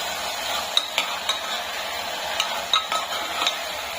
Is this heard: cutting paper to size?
no